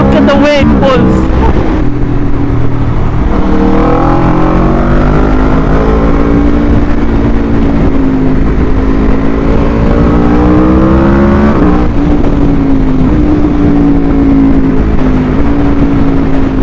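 A 2022 Aprilia RSV4 1100 Factory sport motorcycle's engine pulls hard under acceleration, a loud, close, rising roar with a brief dip near twelve seconds as it keeps climbing, with someone talking over it.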